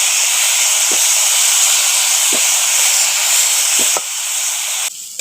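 Shrimp dropped into well-heated oil for a banana-flower and prawn dish hiss loudly and continuously at close range, a dense broad sizzle with a few faint clicks, easing slightly toward the end.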